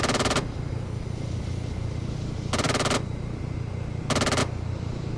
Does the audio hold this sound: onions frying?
no